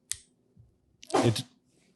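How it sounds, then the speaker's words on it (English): A single short sneeze from someone in a small audience, a quick burst after a faint click, fairly close and alone in an otherwise quiet room. "sneezing in the peanut gallery"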